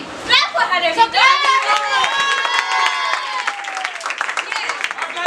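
A class in an English role-play session clapping for a student named Khushi, with scattered claps under a crowd of voices cheering and chattering, lively and close throughout.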